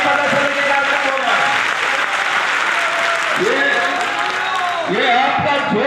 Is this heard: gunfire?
no